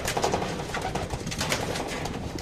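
Blue bar pigeons coo close by in soft, repeated throaty calls over a steady rustling background.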